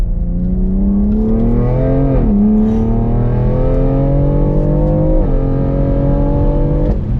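A 2020 BMW X3M compact SUV in manual mode accelerates hard using its paddle shifters: a loud, close engine roar climbs steadily in pitch, dips briefly at each of two quick upshifts, then rises again.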